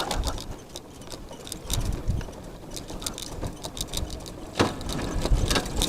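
An Izh Planeta 5 motorcycle engine runs while the rider works through the gears, with uneven clicks, knocks and mechanical clatter over a low idle. The sounds come in irregular bursts at close range.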